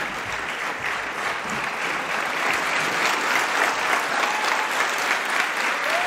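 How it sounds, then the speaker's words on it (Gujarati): An audience gives a loud round of applause at a spiritual gathering, a sustained, even wash of many hands clapping from start to finish, with no one speaking over it. "જોરદાર તાળીઓ"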